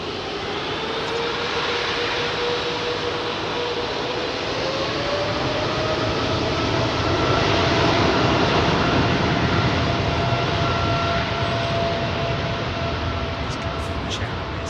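Airbus A350 and Boeing 777 jet engines roar at Heathrow Airport, a loud, steady, close rumble that holds for the whole stretch while a faint rising whine runs beneath it.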